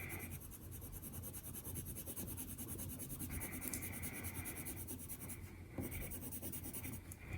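Colored pencil burnished over paper with hard pressure, blending layers: a steady, close scratchy rubbing that runs continuously without pause.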